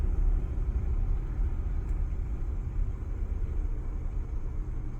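Steady low road rumble inside a car driving at twilight through an Ocala, Florida neighborhood, a constant engine and tire drone with no voices.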